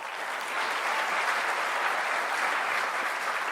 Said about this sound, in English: One more round of applause, ladies and gentlemen, for that inspiring, enlightening, challenging, beautiful speech on breaking boundaries